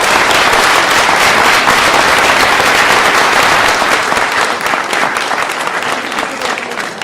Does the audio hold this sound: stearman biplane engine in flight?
no